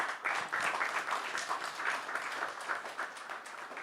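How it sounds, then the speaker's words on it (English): An audience applauds Mr. Mbalula after a panel at the Friedrich Naumann Foundation's Freedom Dialogue, giving a soft, even patter of clapping from a modest crowd, somewhat distant and quiet. "please join me in another round of applause for Mr. Mbalula"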